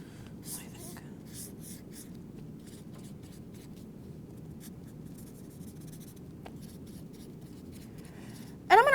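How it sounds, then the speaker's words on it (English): A pencil sketches on paper in short scratchy strokes, soft and close, repeating in bursts against a quiet room hum, with a brief louder rustle at the very end. "I'm going to personally do a little sketch."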